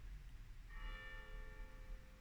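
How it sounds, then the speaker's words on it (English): A single church bell in Germany strikes once at 11 o'clock and rings on with a clear, lingering tone, faint and distant over low background hum. "Maybe you can hear the church bell ringing."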